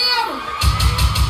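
Concert crowd at a show screaming in answer to the performer, rising after a short spoken call over a pulsing bass beat.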